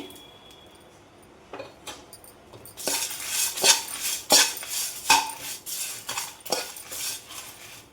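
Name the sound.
frying curry leaves, dried chillies, tamarind and salt in pan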